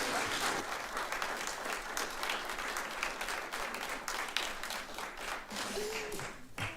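A council meeting audience breaks into loud, sustained clapping, many hands at once in a thick continuous burst that holds steady for several seconds before starting to thin near the end.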